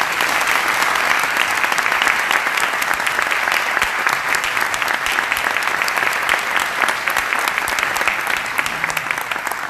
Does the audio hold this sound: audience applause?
yes